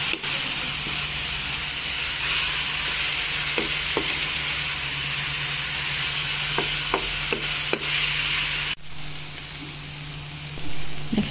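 Food with oyster sauce sizzles steadily in a hot pan while a utensil stirs it, with scattered clicks and scrapes over a constant frying hiss and a low hum.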